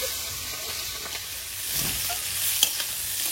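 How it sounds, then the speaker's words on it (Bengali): Beans fry in hot oil in a wok for chicken chow mein, a steady soft sizzle and hiss with occasional spatula stirring and a faint sharp clink, close and alone without talk. "তেলটা গরম হয়েছে, এবার বিন কড়াইটা প্রথমে ভেজে নেব"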